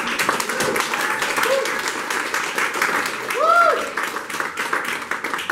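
A seated audience at an evening psychedelic awareness salon gives a steady, moderately loud round of applause lasting several seconds, with a few faint voices mixed in.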